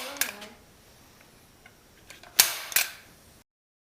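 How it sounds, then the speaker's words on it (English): A handheld stapler drives staples into a small, stiff piece of material in the middle of a wheat harvesting and threshing project, giving two sharp, close clacks about half a second apart, with faint clicks before them. "time to start stapling the small piece onto this"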